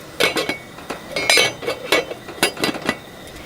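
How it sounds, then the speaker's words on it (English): A metal lid clinks and rattles against a boiling camping pasta pot in several quick, close contacts, light metallic taps scattered over a few seconds. "We've got the lid. Let's pop that on."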